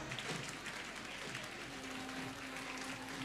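Faint, steady applause from an audience welcoming the Kota SP on stage at a motivational session, a distant continuous patter of clapping.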